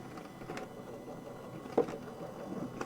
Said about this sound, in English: And then I'm going to run that through my machine.